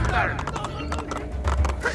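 Quick hoof clops from a horse sound close by in a short burst, with a voice talking over them, in the video game Assassin's Creed II.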